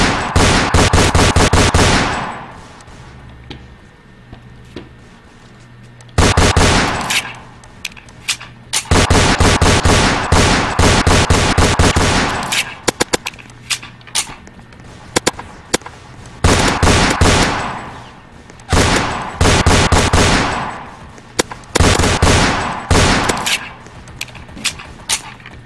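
Repeated bursts of rapid gunfire from a Roblox shooter game styled after Fortnite, loud and close, coming in several long volleys broken by short quieter gaps.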